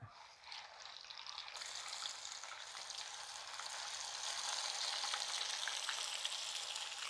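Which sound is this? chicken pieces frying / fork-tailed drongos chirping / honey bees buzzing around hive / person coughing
chicken pieces frying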